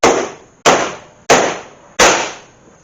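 Four sharp metallic strikes of a small pick hammer on a Cadillac CTS bumper cover laid over wood, evenly spaced about two-thirds of a second apart, loud and close with quick decays.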